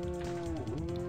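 Cartoonish cow moos from the N64 fighting game Fighters Destiny, a loud sustained lowing tone bending in pitch, with game sound running underneath.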